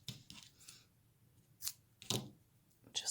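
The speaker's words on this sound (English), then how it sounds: "I am already going to snip some of this off to get it out of my way" Scissors snipping crochet yarn close up, several quiet, crisp cuts and rustles with short pauses between them.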